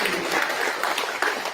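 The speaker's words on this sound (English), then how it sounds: "let's give a hand of applause for our panelists," An audience at a symposium applauds the panelists, a steady wash of clapping from a crowd in a hall, moderately loud and sustained for the whole moment with no talk over it.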